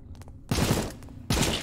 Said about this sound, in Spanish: Ahora sacamos el automático y lo cosemos a tiros, obviamente